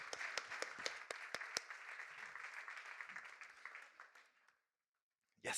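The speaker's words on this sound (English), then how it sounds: "Let's give a warm applause for the expert speakers." An audience at a health and physical literacy session claps warmly for the speakers, with a few sharp nearby claps over softer applause that fades to silence, followed by a brief loud noise at the end.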